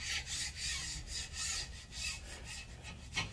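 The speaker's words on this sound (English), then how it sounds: "you want to go ahead and get your paint off the deck." A scraper rubs paint off an engine's gasket deck surface in repeated short strokes, a dry rasping scratch pulsing roughly every half second, close and faint, no voices.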